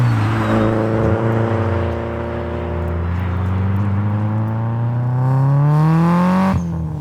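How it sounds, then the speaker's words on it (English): Turbocharged 500 hp Subaru Impreza STI running E85 with a Turbo Smart wastegate, revving up steadily with rising engine tone and turbo whine for several seconds, then dropping off sharply near the end; loud and close with no talking. "Yeah, that's the turbo. It's been great. It spins good. It sounds amazing"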